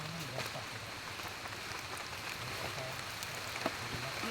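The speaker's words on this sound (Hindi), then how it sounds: "माय गॉड बारिश भी हो रही है गाइस" Light rain patters outdoors in Teliamura, a soft continuous hiss with scattered faint drips and distant low hum, no talk.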